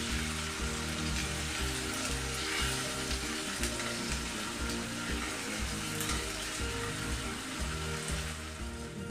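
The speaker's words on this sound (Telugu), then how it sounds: "ఇప్పుడు అల్లం వెల్లుల్లి పేస్ట్ వేసుకొని కలుపుకోవాలి. పచ్చివాసన పోయేంత వరకు వేయించుకోవాలి." Ginger garlic paste fries with onions in oil for a chicken kurma, giving a dense, continuous close sizzle and crackle with rhythmic stirring scrapes running through.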